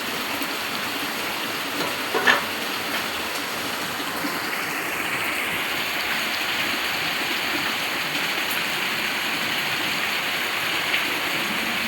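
Heavy monsoon downpour roars steadily and loudly close by, a dense unbroken wash of rain with no talk.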